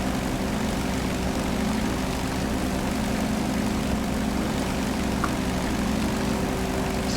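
An aircraft engine drones steadily in the DCS flight simulator, a constant propeller-like hum with a strong low tonal buzz and even broadband noise, unchanging and close, with no talking.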